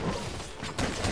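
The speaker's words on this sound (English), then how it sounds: "There's an explosion!" An explosion in the video game Monster Hunter: World: a short, dense burst of rumbling, crashing noise that swells again near the end, loud and close with no voices over it.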